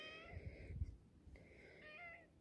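A cat meows twice, with two drawn-out, tonal cries separated by a short gap, quiet and close with a low hum of room noise beneath.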